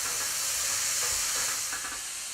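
Minced garlic sizzles loudly in a hot pan while being stirred, a steady close hiss broken by faint scraping, easing slightly toward the end with no talking.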